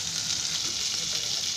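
Semolina-coated mackerel (bangda) frying in hot oil, giving a steady, dense, close sizzle and crackle that holds at an even level throughout with no other sounds.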